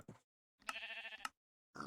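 Pigs grunting in the Minecraft video game, two short grunts with a clipped start of a third, close and clear against silence, no talk.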